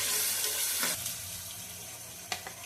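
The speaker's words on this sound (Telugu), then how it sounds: "ఉల్లిపాయలు వేసుకుండగా అల్లం వెల్లుల్లి పేస్ట్ వేసి పచ్చి వాసన పోయే వరకు వేసుకోవాలి" Sliced onions frying with ginger garlic paste in a pan, a close steady sizzle that fades slightly, broken by a couple of brief stirring scrapes and clatters, with no talk.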